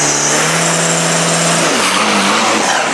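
Isuzu common-rail turbo diesel drag racing pickup on drag radial tires, a loud close engine roar with a rising, shifting pitch and tire noise, no talking.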